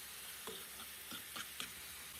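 Chopped onions fry in oil with a steady hiss, broken by a few scraping stirs at irregular intervals, no voices.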